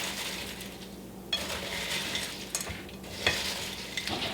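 Puppy chow being folded and mixed in a big bowl, with steady scraping and stirring rustles and a few sharper clinks of the spoon against the bowl, close and alone.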